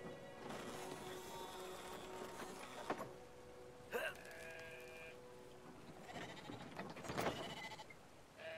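Sheep bleating in the video game Brothers: A Tale of Two Sons, several wavering bleats over a murky ambient game background with faint clatter.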